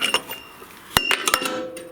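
Carburetor bowl coming off a Honda lawnmower, a few sharp metallic clinks and taps in quick succession near the end, close and fairly crisp after a quiet start.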